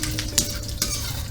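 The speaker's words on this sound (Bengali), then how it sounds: "কালো জিরে ফোড়ন দিচ্ছি।" Black cumin seeds tempering in hot oil give a close, crackling sizzle with a couple of sharp pops and faint stirring clatter, no voices over it.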